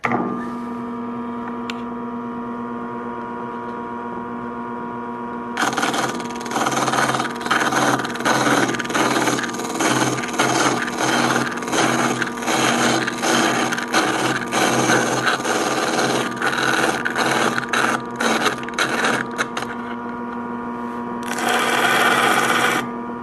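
Grinding wheel running for shaping a sculpture armature joint, starting after a few seconds of quiet hum, with a loud dense grinding rasp in fluctuating bursts as metal is pressed against it, close up.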